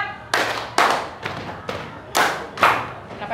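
Six sharp, loud claps from a class of students in a rhythm exercise, roughly evenly spaced, with a faint voice at the start.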